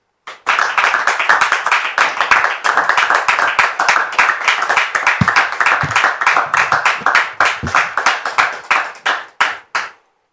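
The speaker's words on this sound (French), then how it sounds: "je voudrais qu'on reçoive encore sous vos applaudissements Dame Priska" An audience claps steadily for about ten seconds to welcome a guest onto a French talk-show stage, the dense applause fading into a few scattered final claps.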